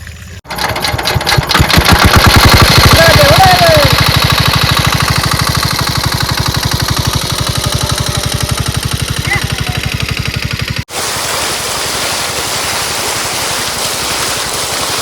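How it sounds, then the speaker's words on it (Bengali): An engine-driven pump beside a small pond in a Sundarban village field starts and runs with a loud, steady mechanical drone for about ten seconds, then cuts off abruptly into a broad hissing wash. "বন্ধুরা মেশিন তো স্টার্ট দিয়ে দিয়েছি"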